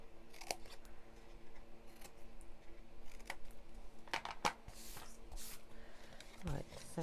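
Scissors snip the small side pieces off a paper craft shape, giving a series of short, crisp cuts scattered over a steady low background hum.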